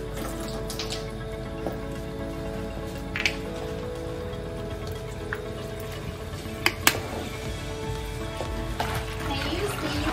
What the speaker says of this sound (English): the technician is using the shampoo to wash the hair before lathering conditioner onto the system